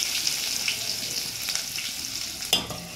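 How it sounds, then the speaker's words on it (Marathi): Chopped onion hits hot oil in a pan for sambar, a close, hissing fry with crackles and a sharp burst of sizzle near the end. "आता आपण कांदा टाकू जो आपण ऑलरेडी कापलेला होता।"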